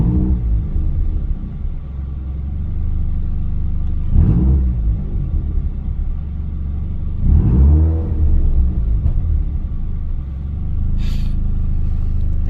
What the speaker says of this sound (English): We'll blip the gas pedal here.